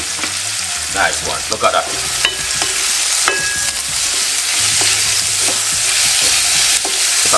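Courgettes being stir-fried in a pan, with a steady loud sizzle and repeated scraping and stirring clicks throughout, while a voice briefly speaks over the cooking.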